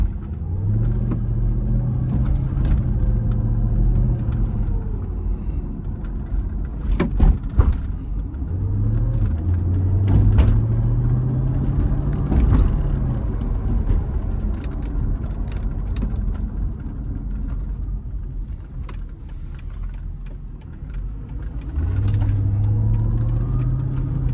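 A 2006 Mercedes SL500 drives steadily on the road, its engine rumbling low and continuous with a few rises in revs and occasional bumps, fairly close and with no talk over it.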